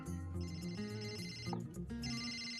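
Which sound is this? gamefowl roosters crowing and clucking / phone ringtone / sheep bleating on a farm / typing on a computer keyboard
phone ringtone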